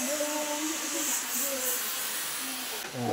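A gas welding torch at a tea-leaf processing factory on the Doloo Tea Estate gives a steady, loud broadband hiss throughout, with faint voices in the background.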